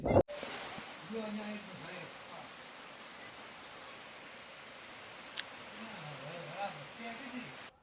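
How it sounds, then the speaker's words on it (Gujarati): Steady rain hisses evenly throughout, with a faint voice murmuring underneath. "વરસાદનો અવાજ આવે તમે સાંભળો ખાલી"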